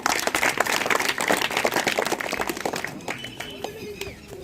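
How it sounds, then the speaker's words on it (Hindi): A crowd of staff, villagers and children claps loudly for a retiring school principal at a farewell ceremony, dense applause that gradually thins toward the end, with a voice faintly audible beneath. "जोरदार ताली"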